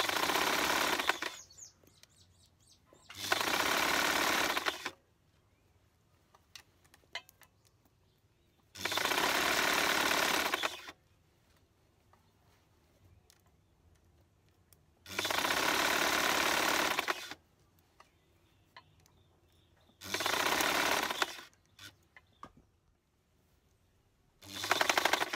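A sewing machine stitches a 5/8 seam allowance in five loud, steady whirring runs of a few seconds each, broken by near-silent pauses.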